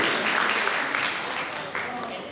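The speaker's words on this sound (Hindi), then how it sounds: "अध्यक्ष साहब की जोरदार तालियां होनी चाहिए।" Applause at a Gujarati Brahman Samaj gathering in Jaipur, given for the president of the community: a dense, steady wash of many hands clapping together, fairly loud throughout and fading slightly toward the end, with faint voices mixed in.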